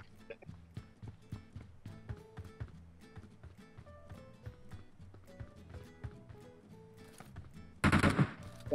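Gunfire in the PUBG Mobile video game, rapid bursts of sharp shots in an uneven rhythm, ending in a loud, dense blast.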